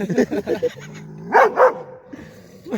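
Dogs yip and bark in short bursts with whimpering tones between, close by, mixed with some voice-like sounds, as street dogs clash with pet dogs.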